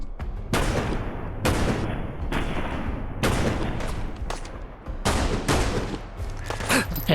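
Heavy gunfire in the video game Fallout London, loud overlapping bursts and single booming shots repeating every second or so, with brief gaps between volleys.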